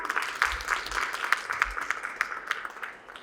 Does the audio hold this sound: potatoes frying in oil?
no